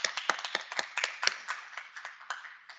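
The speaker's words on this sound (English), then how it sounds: "So can we clap it up for them as well?" Scattered clapping from an audience at a National Criminal Justice Month keynote event, a quick run of individual claps that thins out and fades toward the end, moderately quiet.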